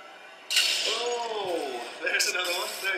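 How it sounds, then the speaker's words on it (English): A laser beam smashes a screen in the video game Portal 2, with a sharp glassy crash followed by a second burst of breaking, clinking debris, while a person talks over it. "It seems unfair, you know, smashing screens."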